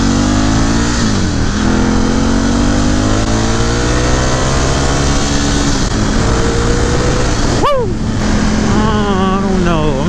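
A Ducati Scrambler 1100 Special from 2018 being ridden, its engine droning loudly and steadily near the microphone with gear-change dips and rising revs, and wind rumble throughout.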